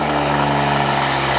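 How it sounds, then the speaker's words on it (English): Toyota Supra engine just after starting, running at a steady, close, loud low hum for a brief moment with no talk. "Will you start my car for me?"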